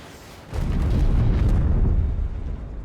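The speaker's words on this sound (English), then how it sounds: "That's a cool explosion sound, dude." A loud, deep explosion from Anno 2205 bursts in suddenly and rumbles on for a couple of seconds, heard alone with no talk.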